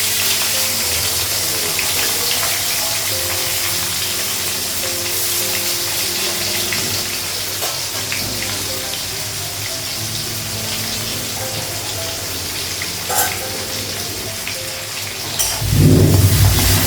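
Onions frying in hot oil with five-spice, a dense, steady sizzle that fills the whole stretch, loud and close, with a brief stir or clatter near the end.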